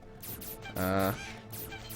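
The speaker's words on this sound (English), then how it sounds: "we're just shooting some birds right now." A loud, brassy goose honk bursts out over a steady bed of background sound from the game Bullet Heaven 2, with softer honks around it.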